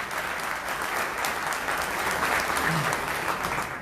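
Audience at an Islam versus secularism talk applauding the event organizers, a dense continuous burst of clapping that holds steady for the full few seconds, with a voice faintly present underneath.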